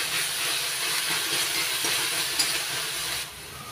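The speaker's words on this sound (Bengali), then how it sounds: "যতক্ষণ না আদা রসুনের কাঁচা গন্ধটা যাচ্ছে ততক্ষণ পর্যন্ত ভেজে নেব।" Ginger-garlic paste fries with onions in a pan, making a continuous broad hiss that holds steady close by and eases slightly quieter near the end, with no one speaking.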